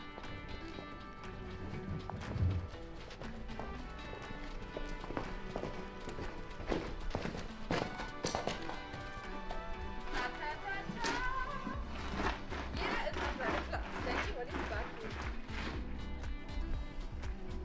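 Miniature horses walk in a stable during evening routine, their hooves clip-clopping in an irregular patter with occasional faint snorts and shuffling, moderately close, with some talk.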